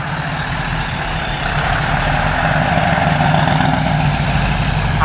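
The Scania Red Pearl R999 truck's roughly 1000-horsepower engine runs with a loud, steady low rumble that swells slightly partway through and then holds close and constant, with no voices.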